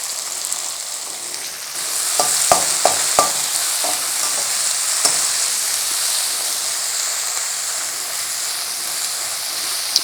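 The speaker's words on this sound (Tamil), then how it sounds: "இப்போ வெங்காயம் நல்லா வதங்கட்டும்" Chopped onion with fennel and green chillies stir-frying in a hot pan gives a steady sizzling hiss, broken early on by a few sharp clinks of a utensil against the pan.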